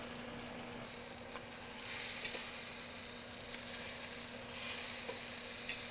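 Butter with scallop cooking liquid sizzles and reduces in a hot pan, a steady, moderately loud crackling hiss with occasional small pops and scrapes, heard alone without any voices.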